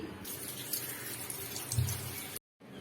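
Raw green mangoes from a village home, still caked with soil, are rinsed under a running tap, a steady close splash of water that cuts off abruptly near the end.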